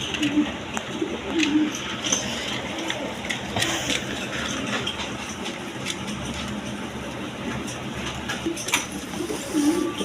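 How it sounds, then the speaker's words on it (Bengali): Indian Kaldom pigeons, a big-sized breed, coo in soft repeated low calls, several bouts spread across a steady background of noise, fairly close. "এটা হলো ইন্ডিয়ান কালদম কবুতর একদম বিগ সাইজের দেখার মতো কবুতর"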